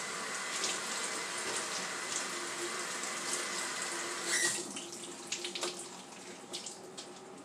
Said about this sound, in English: I'm going to rinse it off right quick